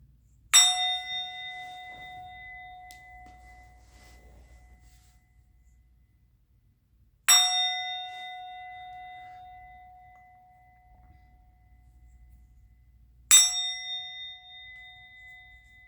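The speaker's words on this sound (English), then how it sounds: "I'm going to ring the bell." A bell is struck three times at roughly six-second intervals, each bright metallic ring sounding clearly and then fading slowly over a faint low hum.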